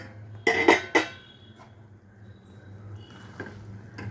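A cooking pot lid lifted off during preparation of a citron pachadi, two quick metallic clanks close by, then a faint simmering hiss and a soft later clink.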